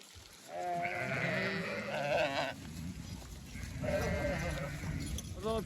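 Several sheep bleat nearby, long wavering calls overlapping one another above a low rumble of background noise.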